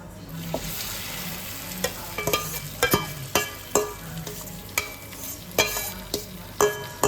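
Egg and potato mixture frying in an oiled saucepan for a traditional Spanish tortilla, with a steady close sizzle broken by repeated sharp scrapes and clinks of stirring, no talking.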